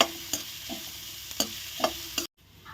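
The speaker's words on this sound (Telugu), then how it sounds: "ఉల్లిపాయలు చక్కగా ఫ్రై అయ్యే వరకు ఫ్రై చేసుకోవాలి." Onions fry in a pan for an egg dish, a quiet, steady sizzle broken by a few soft clicks of stirring before it suddenly stops.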